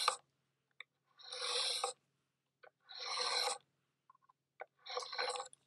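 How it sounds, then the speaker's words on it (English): Craft blade drawn with light pressure through three stacked layers of card, giving three short, quiet scraping rasps about a second long each, separated by near silence and faint small ticks. "do very, very light pressure as I cut through basically three layers"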